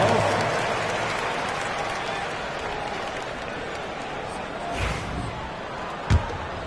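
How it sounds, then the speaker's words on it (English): Steady crowd applause and arena noise at an NBA Summer Cup basketball game fill the clip, with a couple of sharp thuds near the end. "Give yourself a big round of applause"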